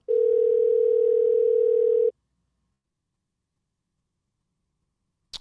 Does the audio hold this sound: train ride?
no